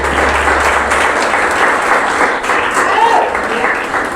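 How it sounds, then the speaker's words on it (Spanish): A congregation applauds during a Spanish-language sermon, giving a steady, loud wash of many hands clapping that fills the whole stretch without let-up. "Va, denle un aplauso a los cuales"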